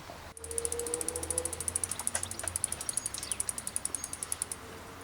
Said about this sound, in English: The gear shifter is friction rather than indexed, so of course it goes through everything smoothly.